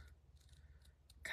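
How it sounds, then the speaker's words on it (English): Scissors snip through ribbon at an angle while making a sympathy card, a quiet close-up cut ending in a sharp brief snip, with low background hum and no speech. "So we're going to cut that at an angle"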